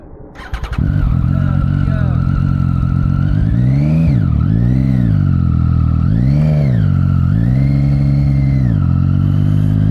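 A Triumph Street Triple 675R motorcycle engine idles loudly close by, then revs in three rising and falling surges, with a voice speaking partway through.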